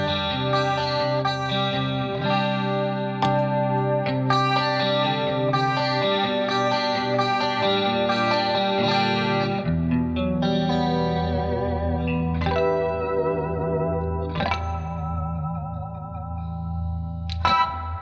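Electric guitar through a Tone Press compressor pedal into Fender amps, playing ringing chords and single notes with chorus-like shimmer and echo, sustained and fairly even in level, no voices.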